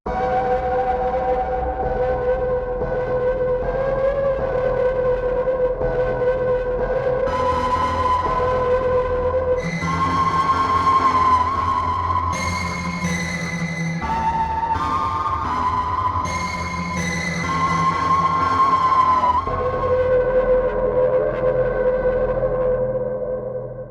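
Sustained guitar pad with a dark, villainous tone, layered droning chords that swell and shift in pitch across a long, continuous wash without voices.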